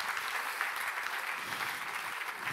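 Seated audience at a conference gives sustained, moderately faint applause, an even wash of many hands clapping throughout with no pauses.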